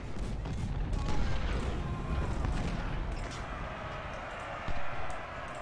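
Dense, continuous musket and rifle gunfire from an American Civil War strategy video game, a rolling crackle of many distant shots with booms, filling the whole stretch without a break.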